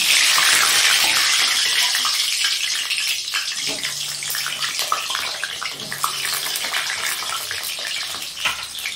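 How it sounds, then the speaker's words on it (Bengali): Potatoes dropped into hot oil in a wok crackle and sizzle loudly, a dense hiss that settles into steady frying with a few stirring knocks. "এবারে কড়াতে আলু দিলাম"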